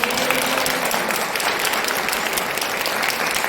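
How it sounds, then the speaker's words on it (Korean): Congregation in a church service giving a round of thankful applause, dense continuous clapping from many people that is loud and steady from start to finish. "감사한 박수 한번 해주십시오"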